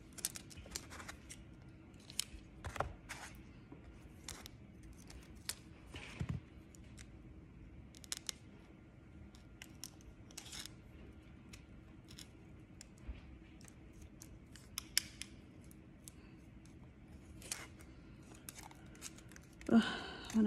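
Tape is pulled and torn while wrapping a sublimation mug for a Cricut Mug Press, heard as scattered sharp rips and crinkles at close range, irregular and fairly quiet, with a louder burst near the end.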